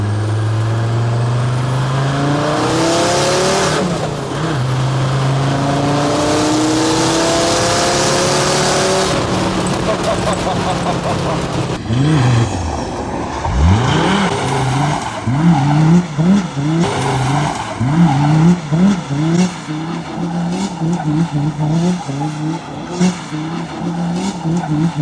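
A 435 bhp OM605 turbo diesel Series 1 Land Rover accelerating hard, loud engine tones climbing through gears with turbo whistle and hiss, then a rough, pulsing drive that continues close up with no talk.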